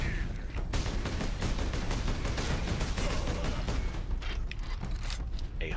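Rapid, continuous gunfire in the Space Marine video game, a dense, loud stream of shots with a few short pauses near the end.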